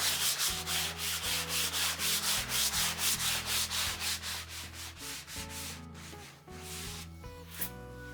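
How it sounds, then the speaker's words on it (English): Hand sanding of a board coated in glue, with rhythmic back-and-forth scratchy strokes repeating steadily up close, slowing and turning irregular near the end. "give it a light sanding"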